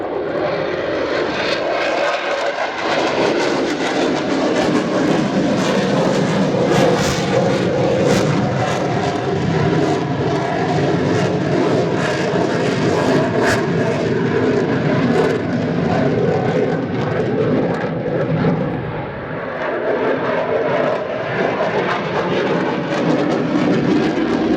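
A Finnish F/A-18C Hornet jet roars loud and steady overhead at an air display, engine noise sustained throughout as it pulls into a Cobra manoeuvre, dipping briefly near the end.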